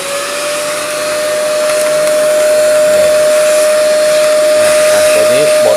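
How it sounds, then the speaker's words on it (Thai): A vacuum cleaner sucks dust from inside the gear housing of a grinder, producing a loud, continuous whine with a steady pitched hum that holds throughout. "ใช้ เครื่องดูดฝุ่น นะท่านดูดเลยนะ ดูด ฝุ่นที่มันมีค้างอยู่ตรงนี้ให้เรียบร้อยนะ"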